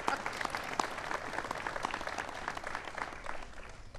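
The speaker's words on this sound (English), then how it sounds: "So give him a round of applause for that." Applause for a police officer at a White House ceremony honoring top cops, a steady wash of many hands clapping that fills the room evenly, with a few sharper nearby claps standing out.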